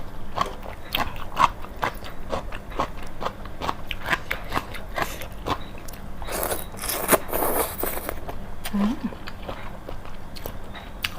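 Close, rhythmic crunchy chewing of blanched cabbage eaten with rice noodles in fermented fish sauce, regular crisp bites with softer mouth sounds between, no talking.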